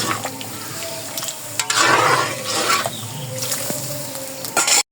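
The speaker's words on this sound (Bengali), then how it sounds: "যে অন্নটা বসিয়ে দিয়েছিলাম, অন্নটা হয়ে গেছে, এখন ঝরা দেব" Water splashes and pours out as cooked rice is drained, a gushing, irregular stream near at hand with some clatter of the pot, loudest in the middle and stopping abruptly at the end.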